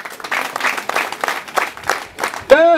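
Wedding guests clap in a rough, pulsing rhythm while someone speaks loudly over them, and a sharp high whistle or shout cuts in near the end.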